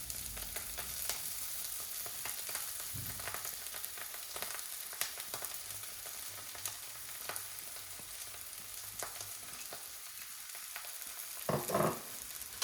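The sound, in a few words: poha (flattened rice) added and stirred into frying spices in pan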